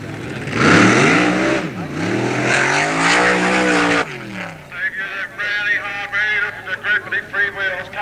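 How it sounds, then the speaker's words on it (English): The Krypton dragster running at a 1986 North Weald drag racing meet, a loud roaring engine whose pitch sweeps down then climbs again for about four seconds before cutting off, followed by a commentator speaking over the public address. "Dave Wilson with the Krypton Dragster."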